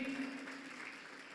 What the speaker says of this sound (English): A huge round of applause to Captain Ansari, OBE.